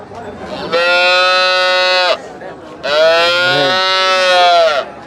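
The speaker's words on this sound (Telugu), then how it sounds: "ఈ వారం అయితే మంచి మంచి ఆవులు వచ్చినాయి." Cattle mooing at a busy cow market in Sardarnagar, two long, loud, drawn-out moos one after the other, each lasting over a second, with faint crowd noise between them.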